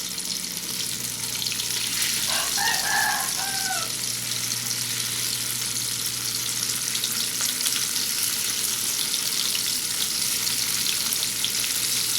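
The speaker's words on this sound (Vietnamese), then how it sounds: "Giờ mình sẽ để hành vô mình chiên." Onions fry in hot oil, sizzling and crackling steadily with a loud continuous hiss and a faint low hum underneath.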